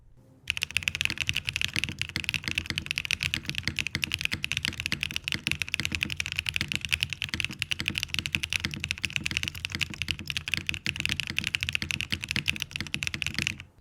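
Rapid, continuous typing on a custom mechanical keyboard with the PCB flex cuts taped over and the case foam removed, giving close, even clacking with no voices.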